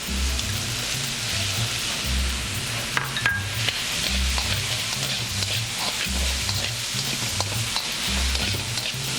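Onions frying with pork in a hot pan, giving a continuous close sizzle with crackles and small pops, while a low rhythmic hum pulses underneath, with no talking.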